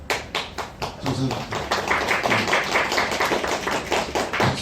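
An audience at a film talk event claps in a dense, steady patter of applause that carries on for several seconds, while a voice speaks briefly over it.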